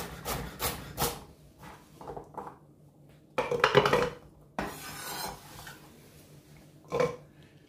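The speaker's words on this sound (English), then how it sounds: "With the carrot, just gonna rough chop them" Carrots being rough chopped with a knife on a cutting board, a run of irregular dull chops and thuds with brief pauses, close and moderately loud.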